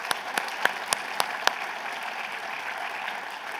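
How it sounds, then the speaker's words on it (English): An audience claps together in a steady wash of applause, with a few sharp louder claps standing out near the start before the clapping settles into an even patter. "Everybody give them a hand of applause."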